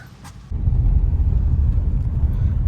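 A car engine starts and then idles as a loud, low, steady rumble close by in the rain, with no talking.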